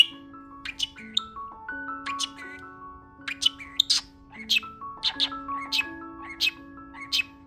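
A pet bird, a parrot, chirps and whistles in a run of bright, clear calls and trills close by, with short squawk-like notes and a person speaking intermittently alongside.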